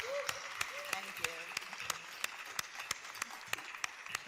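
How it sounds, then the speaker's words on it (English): Audience applause at the Creative Women Forum in Riyadh, heard as sharp, evenly spaced claps that ring out under a voice talking continuously. "please join me in great applause to these 4 amazing, I think, inborn leaders in the field"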